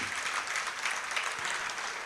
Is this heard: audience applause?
yes